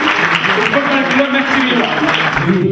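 A crowd applauds medal recipients at a sports award ceremony, with steady, continuous clapping and voices talking over it.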